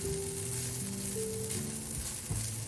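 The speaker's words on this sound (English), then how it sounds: "toss in the noodles and stir fry for a moment" Chow mein noodles sizzle in a hot pan with mushrooms and onions for chicken and bok choy chow mein, a steady close frying hiss with faint stirring under light background music.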